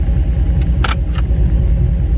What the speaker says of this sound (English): put the windows down a little bit just so I can kind of hear the exhaust